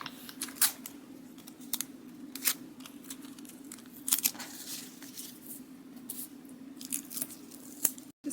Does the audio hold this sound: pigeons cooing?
no